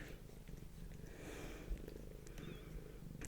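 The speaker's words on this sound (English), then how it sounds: "I don't need purrs and kisses right now, Mikey" A pet cat named Mikey purrs steadily up close, a low continuous rumble with a soft hum over quiet room noise.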